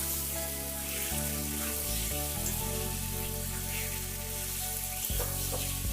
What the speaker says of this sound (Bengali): এটা আমি মশলার সাথে ভালোভাবে কষিয়ে নেব